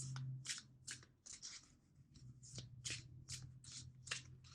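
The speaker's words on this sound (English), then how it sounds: "Two more shuffles." A deck of cards being shuffled up close: a quick series of crisp riffling bursts in a steady rhythm, no voices.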